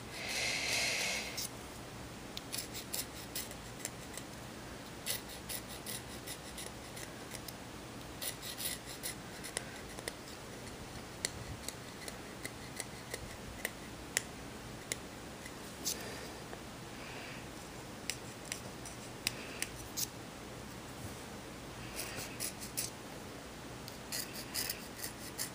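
A knife scrapes along an oboe reed to taper it, making soft, close, continuous rasping strokes that repeat for a long stretch at low volume.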